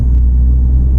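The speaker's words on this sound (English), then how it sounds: "what I like about the car is that I didn't have to do anything to the exhaust system to get that kind of sound" Steady low engine rumble from a 2017 Abarth 595 Trofeo with its stock exhaust, a continuous deep drone held close and loud without any talk.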